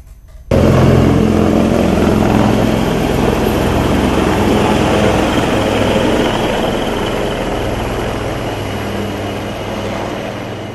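Air force helicopters flying over a hospital: a loud, sustained engine and rotor drone that starts abruptly and then fades slowly as the aircraft moves off.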